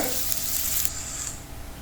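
Potatoes sauteing on a hot tava with cumin and garlic powder, a steady loud sizzle and crackle of frying that softens slightly partway through, with no talk.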